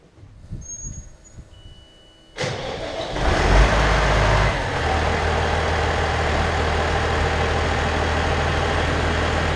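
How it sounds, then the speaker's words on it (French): A Case 1455 tractor engine starts after a few quiet knocks, surges loudly, then settles into a steady, close, low diesel idle to warm the oil. "Je suis en train de faire chauffer le moteur pour faire chauffer l'huile."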